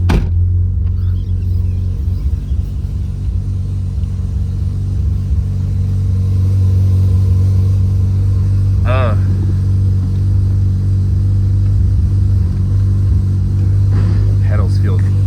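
A restored Mazda FC RX7 on a test drive after rear-end repairs gives a steady low engine rumble heard from inside the car, with a brief higher chirp midway.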